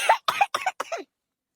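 Cartoon character in an Awadhi village comedy coughs four quick, close, dry times in a row, each hack sharp and voiced, then silence.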